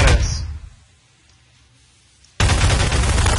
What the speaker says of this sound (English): I'm throwing grenades.